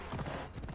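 Horse hooves clip-clopping in a Skyrim-style video game, a quick run of muffled thuds over a steady background, fairly close and moderately loud.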